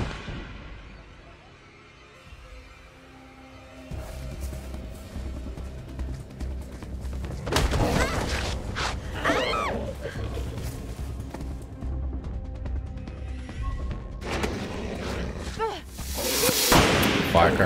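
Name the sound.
firecrackers going off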